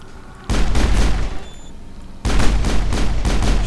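Gunfire in the video game Mass Effect, two loud sustained volleys of rapid shots split by a short lull, with no talking.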